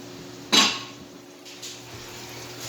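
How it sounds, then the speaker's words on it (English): Pot lid lifted off a pan of cooking biscuits and gravy, one bright metallic clank up close, followed by a softer second lid clink and quiet kitchen hum. "then of course I take the lids off real quick"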